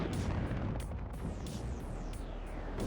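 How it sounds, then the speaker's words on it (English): A multiple rocket launcher cluster strike lands during a WARNO real-time strategy battle, a dense rolling barrage of booming explosions with sharp bursts over a constant low rumble, loud and without a break. "Hitting me now with a MRLS cluster"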